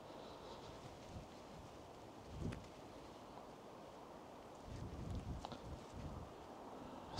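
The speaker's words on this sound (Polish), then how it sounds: "jest bardzo mocny wiatr" Strong outdoor wind gusts buffet the microphone with a low, rough rumble that swells around the middle and again toward the end, with no voices.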